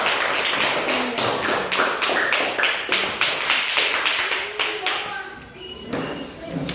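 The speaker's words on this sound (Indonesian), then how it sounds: "Mari beri aplaus buat kedua kelompok. Tepuk tangan dulu." A classroom of students claps for two discussion groups, a dense run of close hand claps lasting several seconds before thinning out, with voices mixed in toward the end.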